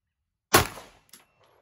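A single 9mm pistol shot, loaded with Imbel Tucano powder and a 125-grain projectile and fired at a 10-meter range, cracks loudly and decays quickly, followed by a faint clink.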